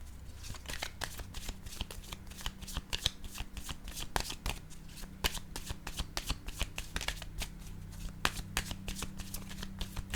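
A deck of cards is shuffled close up, a dense, steady run of rapid riffling snaps that lasts the whole stretch with no pauses and no voices.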